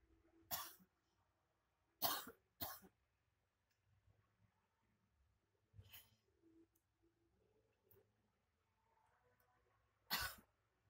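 A person coughs while asleep in a quiet room, five or six short, separate coughs spread over about ten seconds, some in quick pairs, fairly faint and close, with near silence between them.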